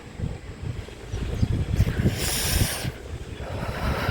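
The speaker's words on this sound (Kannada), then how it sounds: "ಏನು ತಣ್ಣ ಗಾಳಿ ಬೀಸ್ತಿದೆ" Cold wind blows steadily on a snowy morning outdoors, a continuous low rumbling buffet across the microphone with gusts rising and a brief brighter hiss in the middle.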